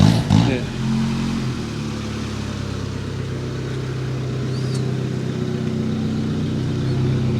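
A retro Nissan car engine revs with a steady, throaty mid-range drone that holds close and loud throughout, after a brief louder burst at the start, with voices faintly in the background.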